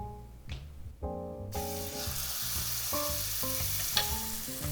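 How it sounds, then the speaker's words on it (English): A tri-tip roast sears in hot oil for a pot roast, giving a steady close sizzle with a brief burst as the meat goes in, over faint background tones. "once that oil gets hot, we're gonna add our meat to it"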